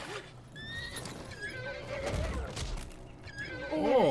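A horse neighs and whinnies in a House of the Dragon scene amid hoof clatter and dramatic background sound, with voices mixed in near the end.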